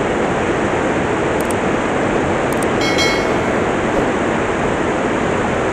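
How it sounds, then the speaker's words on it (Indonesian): A loud waterfall at Curug Putri Palutungan roars at night, a dense, constant rush of falling water that stays close and unbroken throughout. "Dan suara dari air terjunnya kenceng banget karena mungkin airnya semakin malam semakin deras"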